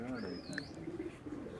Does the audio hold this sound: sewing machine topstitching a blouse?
no